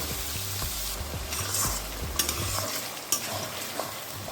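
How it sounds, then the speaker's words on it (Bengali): Chopped onions frying over a medium-high gas flame for beresta, a close continuous sizzle with repeated soft scraping thumps of stirring and a low hum beneath, no voices. "আর এইভাবেই পেঁয়াজটাকে ভেজে নেব"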